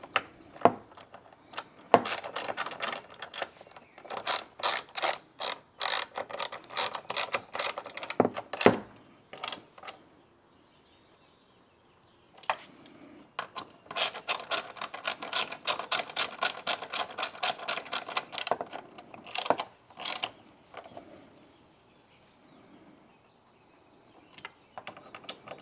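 Ratchet cranking down bolts on Jeep grab handles, heard as bursts of rapid clicking ratchet strokes in two main runs with short pauses and a few isolated clicks, close and fairly loud with no speech.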